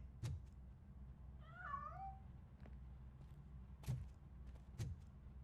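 A single short cat meow from the video game RoboCop: Rogue City, faint and somewhat distant, among soft background noise and a few dull knocks.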